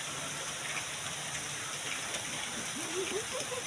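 Rain that has been falling since early morning during a low-pressure spell keeps up a steady, soft hiss at a house, faint and continuous throughout.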